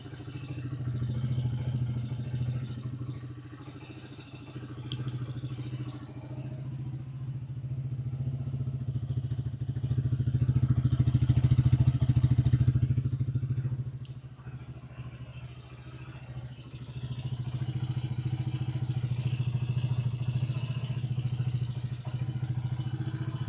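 Polaris Sportsman ATV engine idling steadily during a warm-up heat cycle, a low continuous rumble that swells briefly in the middle and then settles back to an even idle, with no talking.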